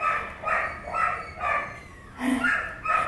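Dogs at the Kingsport Animal Shelter, among them a beagle, bark in repeated bursts of about five yaps, fairly close, with a soft whimpering tone between them and no talk.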